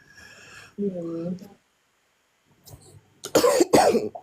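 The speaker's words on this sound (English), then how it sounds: "Even me, I've been coughing." A single throaty cough from a person, followed by a pause and then a short burst of nearby talking.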